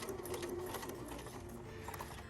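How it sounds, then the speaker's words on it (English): A sewing machine stitches the edges of a drawstring bag, giving a steady, fast, close mechanical whirring that runs without pause. "And then we continue to sew forward."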